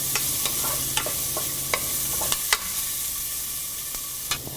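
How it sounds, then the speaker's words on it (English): Ginger, green chilies, small onions and curry leaves sautéing in a pan, a steady soft sizzle broken by sharp clicks and taps of a spoon stirring against the pan. "Add the ginger, green chilies, small onions, 1 sprig of curry leaf and saute for few seconds"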